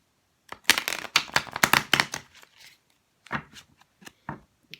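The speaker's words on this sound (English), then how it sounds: "It's not as easy to shuffle as my Everyday Witch Tarot." A stiff deck of Tarot of the Night cards is shuffled close by, giving a run of quick crisp riffling flicks, a short pause, then a few more scattered flicks in a quiet room.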